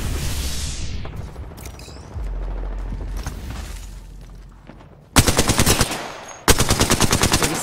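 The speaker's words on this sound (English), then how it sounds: "They spotted me. I'm taking shots." Bursts of automatic gunfire striking the player during an Apex Legends match, two loud rapid volleys near the end after a stretch of quieter game ambience and rumble.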